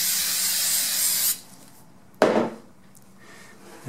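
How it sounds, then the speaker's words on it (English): Spray glue on motorcycle seat padding: a loud continuous aerosol hiss for over a second that cuts off, then a short second burst of spray fading into quiet. "spray a little bit of glue in there just so that it doesn't go anyplace."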